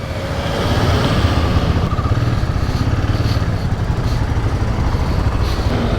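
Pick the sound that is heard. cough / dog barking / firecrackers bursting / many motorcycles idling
many motorcycles idling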